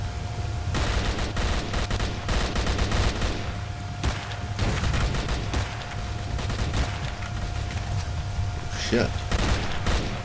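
Bandits firing on zombies in S.T.A.L.K.E.R. Call of Pripyat, sustained automatic gunfire of rapid, irregular bursts at mid distance, continuing throughout with someone briefly talking over it.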